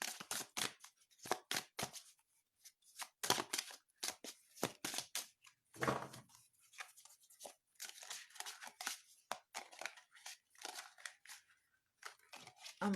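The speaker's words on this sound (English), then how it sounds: "I just love a good shuffle, don't you?" Tarot cards being shuffled by hand in a series of quick riffling, rustling bursts with short pauses between them, close and fairly quiet.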